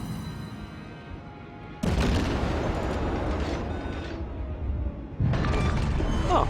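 Naval gunfire from the cruiser Erie in the World of Warships video game, with two heavy booming salvos hitting hard partway through and near the end over rumbling battle noise, while a voice talks throughout.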